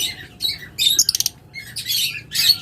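Red-eyed lutino Fischer's lovebirds squawk in loud, shrill bursts close by, with a quick rapid chatter of chirps in the middle and no talk.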